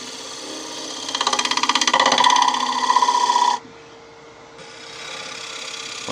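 A negative rake scraper cuts across hardened UV resin set into wood spinning on a lathe, making a loud rattling, chattering buzz for a couple of seconds before it drops away to a quieter steady machine hum.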